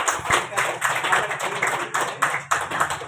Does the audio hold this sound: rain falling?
no